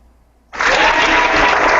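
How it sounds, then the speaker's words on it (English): A round of applause bursts in suddenly after a near-silent moment, a dense and steady wash of clapping that holds loud and even to the end. "Round of applause. Round of applause."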